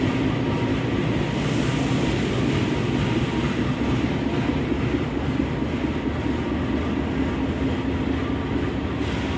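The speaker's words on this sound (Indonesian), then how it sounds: "Kereta api Harina diberangkatkan kembali menuju tujuan akhir, stasiun Bandung" The Harina passenger train pulls away from a station, a steady close rumble of wheels and carriages droning continuously and evenly, with no voices.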